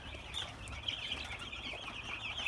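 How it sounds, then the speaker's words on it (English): Thirteen-day-old chicks chirp and cluck together just after feeding, a steady busy chatter of small high calls running close and continuous over a low rumbling background. "The chicks are just after being fed"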